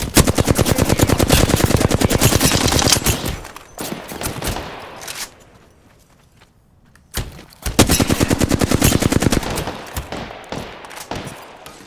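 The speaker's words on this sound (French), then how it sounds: "Je suis sous le feu." Gunfire in the video game Apex Legends: loud rapid automatic bursts up close, a short break of near quiet, then another sustained burst of fire.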